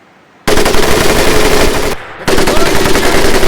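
Machine gun firing on a training range in Medal of Honor Pacific Assault, two long, loud, close sustained bursts separated by a brief pause, with no speech over the fire.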